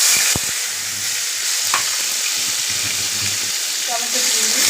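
Onion and onion paste fry in a kadai for a Bengali dish, giving a steady broadband sizzle with occasional stirring scrapes and clinks, close and fairly loud throughout, with no talk over it.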